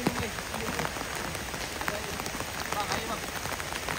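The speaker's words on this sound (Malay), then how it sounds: "Hujan pun tak berhenti-berhenti daripada tadi." Heavy rain pouring steadily at a campsite on a slippery jungle route to Pos Sinderut, a dense continuous patter of drops on surfaces, moderately loud with scattered sharper splashes and faint background voices.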